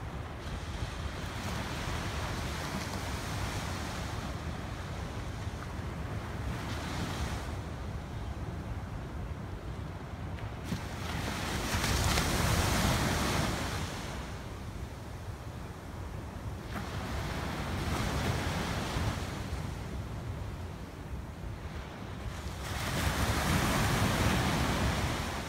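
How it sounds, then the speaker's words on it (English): Ocean surf rolling into a bay under steady wind, waves building and breaking in slow swells every several seconds, with continuous wind noise buffeting the microphone and no voices. "I'll give you a little view of the bay and the ocean out here where I'm looking at"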